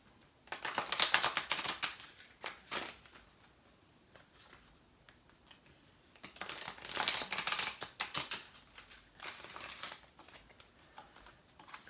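Oracle energy and crystal cards are shuffled and pulled by hand, with two bursts of crisp papery riffling and flicking separated by quieter handling, close and without talk.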